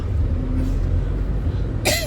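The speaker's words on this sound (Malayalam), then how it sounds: "അമ്മയ്ക്ക് നല്ല ചുമ കേട്ടോ" A woman gives a single short cough right at the end, close and fairly loud, over a low steady rumble of background noise.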